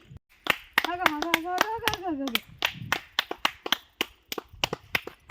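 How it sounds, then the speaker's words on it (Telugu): Hands clapping sharply beside a temple water pool, a quick irregular series of close, crisp claps with a voice briefly singing or calling over the first part. "ఎంత స్పీడ్గా ఎంత గట్టిగా చప్పట్లు కొడితే అంత బుడగలుగా పైకి వస్తున్నాయి నీళ్ళు"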